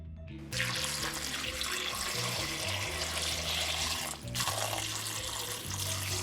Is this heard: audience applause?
no